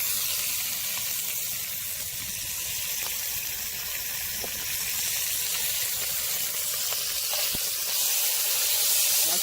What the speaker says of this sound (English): now I'm frying the liver